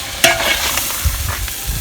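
Chicken frying in a pan, cooked outdoors near a farm field for a village meal, with a utensil scraping and stirring through it in a few close bursts over a steady sizzle.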